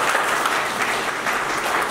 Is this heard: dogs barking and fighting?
no